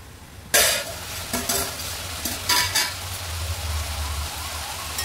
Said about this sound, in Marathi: दोन तीन वेळा झाकण ठेवून चांगल्या भाज्या फ्राय करून घेऊया, परत झाकण ठेवूया एकदम